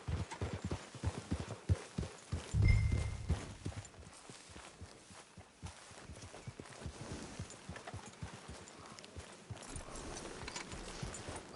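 Horse hooves clip-clop along at a walking pace near a camp, in an old-style Western setting, the steady hoofbeats sounding under an outdoor scene with occasional louder thumps.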